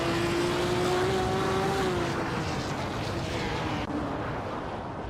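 A BMW 320 Turbo Group 5 race car in a racing video game roars loudly and continuously, its engine tone holding steady and then shifting as it drives on without pause.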